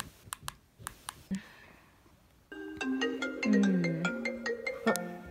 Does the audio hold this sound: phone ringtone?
yes